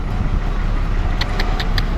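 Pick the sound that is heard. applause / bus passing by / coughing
bus passing by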